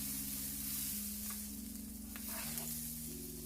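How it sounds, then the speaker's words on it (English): Food frying in a pan for a breakfast of omelette, pancakes and sausages: a faint, steady sizzle with a few soft clinks, under a low hum of background tones. "I'm gonna fry for my daughters first."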